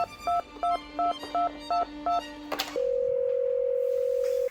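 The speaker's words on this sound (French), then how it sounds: "J'avais besoin d'appeler mon assistant." A telephone call being dialed: a quick run of seven evenly spaced keypad tones, a brief click, then a steady continuous ringing tone held to the end, clear and close with no voices.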